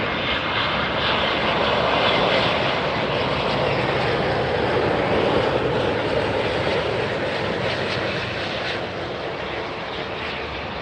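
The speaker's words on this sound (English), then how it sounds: "A350 1000 coming in from Doha." A Qatar Airways Airbus A350-1000 arriving from Doha at Miami Airport roars steadily and close, its dense engine rumble holding strong before easing slightly near the end, with no talking.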